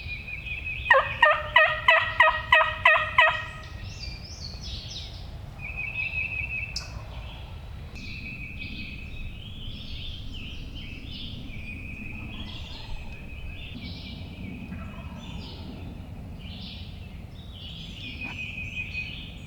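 Wild turkey gobblers gobble loudly in a rapid burst of repeated calls early on during a spring hunt, followed by quieter clucks and yelps scattered across the rest of the stretch.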